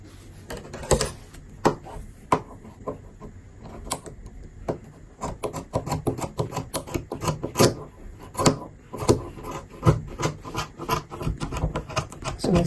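Blunt scissors snip through fabric along a bustier pattern in a series of crisp, close cuts that come faster and denser toward the end.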